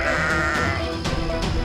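Frightened sheep bleat loudly in a pen in a cartoon story, several overlapping cries close by forming a constant agitated chorus.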